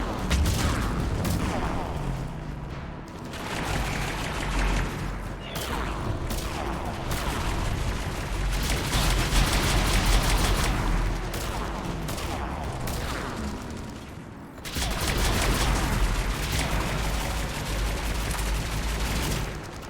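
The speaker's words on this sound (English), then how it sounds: "I really like this gun, by the way." A weapon in Mass Effect 3 fires in long, dense bursts of rapid crackling shots, loud and close, with two brief lulls between the volleys.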